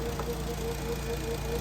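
A Toyota Supra engine idles steadily with a low, even hum and a faint ticking knock, close and alone with no talk.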